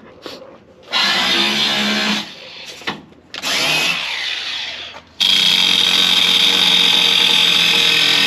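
Power tools such as drills run in bursts during van wiring work, each burst lasting a second or two with short pauses between, then a steady continuous whine for the last three seconds. The tools are close and loud, and no one speaks.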